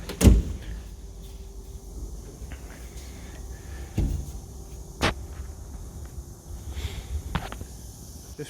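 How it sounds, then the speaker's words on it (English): Back door of a Hebrock F4 edgebander swung shut in a workshop: a sharp thud near the start, then a quieter knock and a few faint clicks over a low machine hum, with no voices. "Close the back door again."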